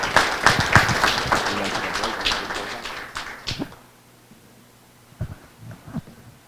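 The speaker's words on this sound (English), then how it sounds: "All right, let's give our panelists a round of applause." An audience at a policy panel claps for the panelists, a burst of scattered applause for about three and a half seconds that stops abruptly, followed by quiet with a few faint isolated taps.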